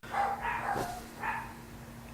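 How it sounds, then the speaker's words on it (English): Dogs bark in the background, faint and distant, a few muffled yaps over a low steady hum. "Dogs"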